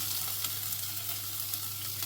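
Beef with curry powder and a stock cube frying and being stirred in a pan, a close, continuous sizzle with soft scraping from the stirring and no talking.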